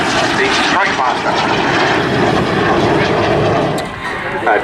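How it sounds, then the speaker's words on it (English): Vintage propeller aircraft flying past at Southport Airshow, a loud continuous engine drone with a slight swell and fade toward the end, with a commentator talking over it. "Coming in to the right now, his 30 as he's known, Ian Brett, flying the Stairmaster"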